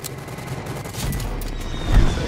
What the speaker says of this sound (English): That's my strafe run